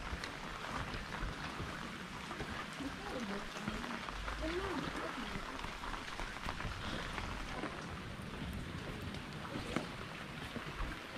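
Rain falls steadily through a mangrove forest, a soft continuous hiss at low level, with people talking faintly underneath.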